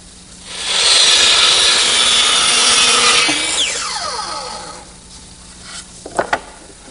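A saw cuts miters on wooden baseboards with a decorative edge, a loud steady broadband whine lasting about three seconds that drops in pitch as the blade spins down, followed by a few sharp knocks.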